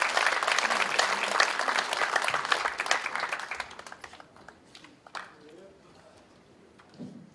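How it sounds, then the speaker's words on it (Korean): An indoor audience applauds to welcome a lecturer, giving dense, loud clapping for about four seconds before it thins out to a few scattered claps, with a voice briefly heard near the end. "박수로 다시 한번 모시겠습니다."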